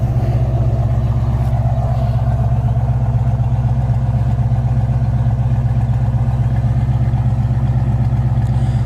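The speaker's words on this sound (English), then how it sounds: "No smoke, engine runs nice." A 1965 Ford Mustang coupe idles steadily and close by, its engine holding a smooth, even low rumble with a regular pulse throughout and no voices.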